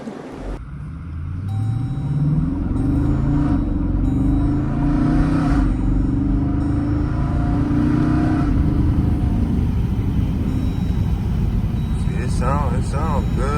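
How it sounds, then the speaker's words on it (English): A straight-piped Hemi V8 in a 2014 Jeep Grand Cherokee Overland rumbles close by and climbs through a long, loud rev before dropping back toward idle, with voices talking nearby. "I'm gonna give y'all a couple pulls."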